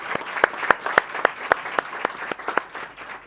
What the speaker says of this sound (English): give her a round of applause and welcome her onto the stage